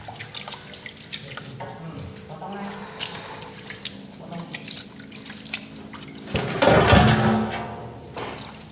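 Water poured from a container onto overly dry cement mortar while fitting a granite stove countertop and dish sink, a splashing, trickling pour swelling loudest near the end, with people talking over it throughout.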